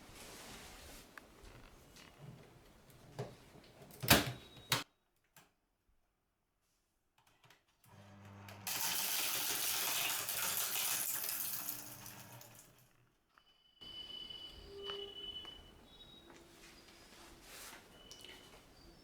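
A Fellowes 79Ci paper shredder grinds through a CD in a loud, steady burst lasting several seconds, after quieter handling clicks and a short silence, ending in lighter rattling as the pieces settle.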